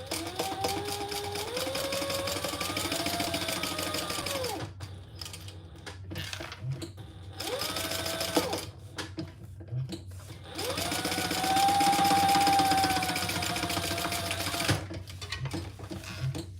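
A sewing machine stitches a French seam, running in steady close bursts with brief pauses and speed changes, its motor whining over a rapid rhythmic clatter.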